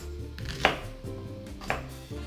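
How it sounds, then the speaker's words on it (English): Shallots are cut into smaller pieces with a knife on a board, two crisp, distinct chops about a second apart, close and fairly quiet. "All you need to do, cut them into smaller pieces just to ease the blending process."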